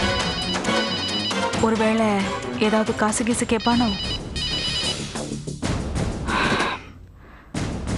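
A phone rings with an incoming call in a Tamil TV serial scene, its electronic ringtone repeating in patterned tones while a person speaks over it, before the ringing stops near the end.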